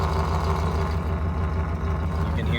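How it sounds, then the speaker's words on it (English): A 1993 Dodge Dakota running on gas vapor idles with a steady, low exhaust rumble, close and continuous with an even pulse throughout. "You can hear the exhaust."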